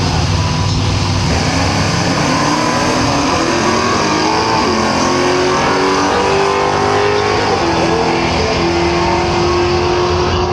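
A drag racing car roars down the strip at Willowbank Raceway in Queensland, a very loud, sustained engine blast close by that fills the whole stretch without letup.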